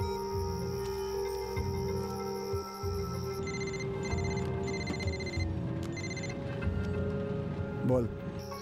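A telephone rings in a Hindi dubbed thriller film, giving several short, bright ring bursts in the middle of the scene over chirping crickets and spoken dialogue.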